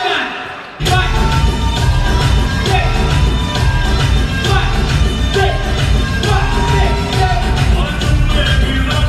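Large crowd of about 500 at a comedy show yells and cheers loudly along to a song, a dense, steady roar over booming music that bursts in abruptly after a brief lull.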